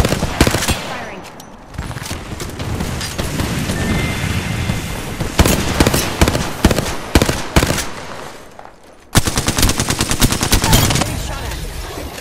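Sustained gunfire from the video game Apex Legends, dense overlapping bursts and rapid automatic shots rolling on loud and close, with a brief lull before a final crisp volley.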